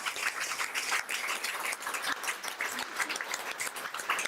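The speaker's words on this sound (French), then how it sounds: "Vous pouvez applaudir vos candidats." A crowd applauds steadily at a political rally in Lille, dense clapping from many hands filling the whole stretch at a constant, moderately loud level.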